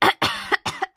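Person coughing in a voiced, hoarse way, with three or four loud, close bursts in quick succession separated by short silences.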